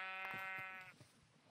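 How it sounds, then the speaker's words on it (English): A single Minecraft sheep gives a clear, buzzy synthetic bleat, wavering for nearly a second before fading, quiet and alone with soft clicks after. "Hi sheep, I need your flesh."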